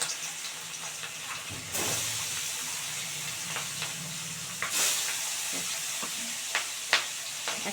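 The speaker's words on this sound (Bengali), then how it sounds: "তেল গরম হয়ে গেছে এবার মাছটা দিয়ে দিচ্ছি এক একটা করে" Fresh pond fish sizzles in hot oil, a steady hissing fry with sharp surges as pieces go into the pan and occasional crackles and pops, close and without talk.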